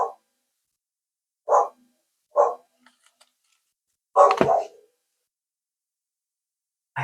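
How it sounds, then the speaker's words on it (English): A dog barks several times in separated bursts, with one louder, longer bark near the end amid otherwise quiet. "my dog was not going to stop barking"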